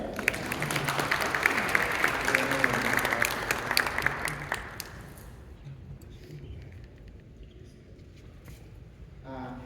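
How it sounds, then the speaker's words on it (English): Audience at a New York memorial for trans people killed by hate claps loudly for about five seconds, then the applause thins to scattered claps and fades into quieter room noise. "so let's give a clap for him."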